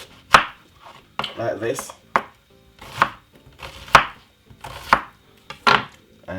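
A knife chops a half white onion very small on a board, sharp thuds landing in an uneven run of single strokes and short bursts, close and clear, with a brief spoken remark between cuts.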